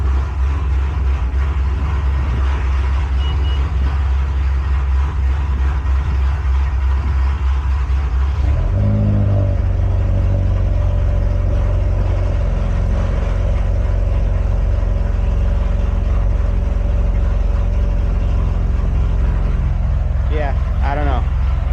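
Acura RDX, third generation, engine running in a garage, a steady low rumble throughout with a shift in tone partway that suggests the engine coming to life, while someone talks over it.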